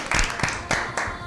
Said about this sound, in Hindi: भरपूर तालियां आपके लिए।